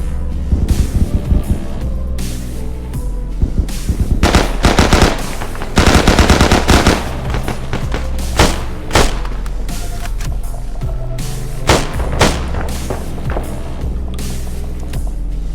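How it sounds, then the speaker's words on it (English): Loud, close automatic gunfire fills a night operation in a military shooter game, with rapid machine-gun bursts and single shots cracking over a constant low rumble for the whole stretch. "We're getting shot at."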